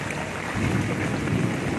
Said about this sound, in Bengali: এখনও বৃষ্টি হচ্ছে